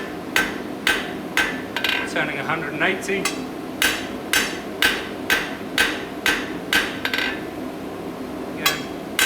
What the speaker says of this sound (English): hammering down my line